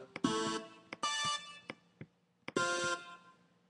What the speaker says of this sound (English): I actually was messing around with the Pro 53 preset called Shining Fifth.